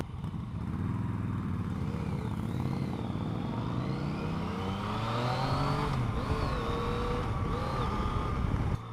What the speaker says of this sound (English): Love this engine. Just wants to be revved.